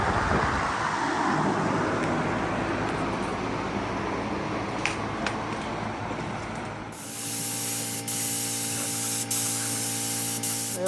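An aerosol spray can lays a second coat of black paint onto the undercarriage of a Mazda RX-7 FD, a steady close hiss that fills the clip and changes character partway through.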